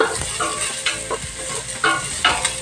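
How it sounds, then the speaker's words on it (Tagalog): Ginger sautéing in a pan, a close, continuous sizzle broken by scraping stirs at irregular moments, with no voices. "Gisa-gisa muna natin hanggang lagun."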